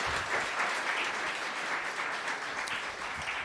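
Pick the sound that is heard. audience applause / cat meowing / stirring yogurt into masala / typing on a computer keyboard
audience applause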